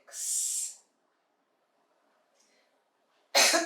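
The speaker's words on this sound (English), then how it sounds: "I'm going to cough now" Two short, breathy coughs from one person doing a static back-rest exercise. The first comes at the start and the second at the end, with near silence between them.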